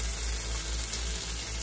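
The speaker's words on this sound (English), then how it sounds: "I'm gonna throw in the smoked meat, which is bacon. It should start sizzling." Two strips of smoked bacon sizzle and crackle in a pot of braised collard greens, a steady, close, hissing fry with no one speaking.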